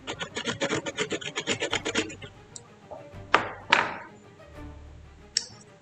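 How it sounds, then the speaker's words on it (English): Rapid rhythmic rasping of metal against a bench grinder while cleaning samurai armor plates, a steady scraping run followed by a few louder separate grinding strokes and light clanks. "the soothing sounds of grinding metals and bench grinders"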